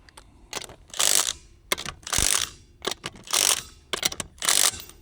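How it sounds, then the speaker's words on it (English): Impact wrench driving lug bolts on a Can-Am Commander side-by-side, heard as five loud close bursts of hammering with short pauses between them. "We don't have a torque wrench today, so we're just gonna use the impact."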